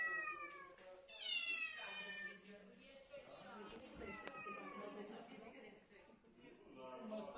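Cats trapped in the ceiling of the county hospital in Constanța meow repeatedly, rising and falling wails that overlap and come close, clearly audible with no talk over them.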